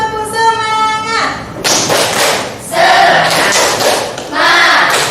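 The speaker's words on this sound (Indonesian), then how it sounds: "Sekarang tepuk semangat." Schoolchildren in a classroom perform a rhythmic spirit clap, with loud group chanting followed by hard, clustered clap and thump bursts in short sets.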